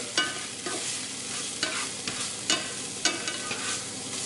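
Fried rice sizzles in a hot pan as it is stirred, with a constant bright crackle broken by regular scraping strokes about every half second.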